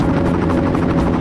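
Helicopter in a DOS video game, a loud, continuous low rotor drone with rapid pulsing chop, steady and close for the whole stretch.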